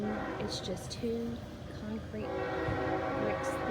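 Train rolling past near an outdoor home garden, with long steady horn blasts sounding loudly behind someone talking throughout.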